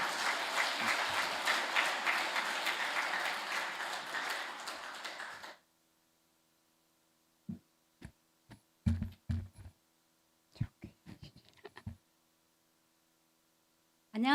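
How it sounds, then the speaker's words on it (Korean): A church congregation applauds during a Sunday morning service, dense, steady clapping for about five seconds that cuts off abruptly, followed by a few scattered taps and knocks in near silence. "우리 권사님 나오실 때 큰 박수로 환영하겠습니다"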